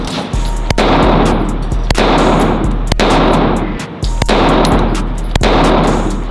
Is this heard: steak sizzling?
no